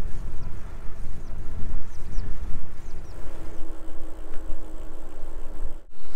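Wind rushing past while cycling along the Rhine with a slight tailwind, a loud, low buffeting rumble that continues throughout with a brief dropout near the end.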